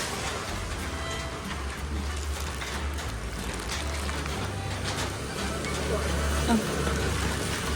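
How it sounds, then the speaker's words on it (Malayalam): Steady rain falls outdoors in a continuous broadband hiss with low rumbling underneath, holding at an even level throughout with no voices. "ഇറങ്ങി കുറച്ച് മുന്നോട്ട് എത്തിയപ്പോൾ തന്നെ നല്ല മഴ പെയ്തിട്ടോ"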